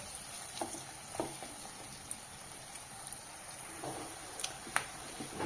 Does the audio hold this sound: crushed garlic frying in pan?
yes